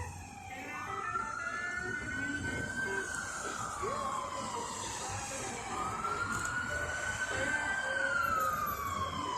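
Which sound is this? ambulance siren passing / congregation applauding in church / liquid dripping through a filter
ambulance siren passing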